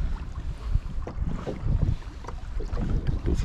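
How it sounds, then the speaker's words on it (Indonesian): Gusty wind at sea buffeting the microphone from a fishing kayak, with low rumbling noise and sloshing water, rough and uneven throughout. "Seksa weh, angin. Serius seksa angin."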